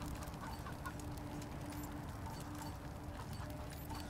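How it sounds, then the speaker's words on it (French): A cyborg chicken in the post-apocalyptic game Wasteland 3 clucks softly amid a dense, steady bed of game ambience and faint scattered clicks, with no talk over it. "on va pouvoir le ramener à la ferme, parce que c'est un des bah, poulets cyborg perdus"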